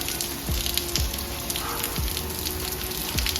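Steady rain patters on a surface, a dense continuous hiss with faint recurring low thuds, no voices.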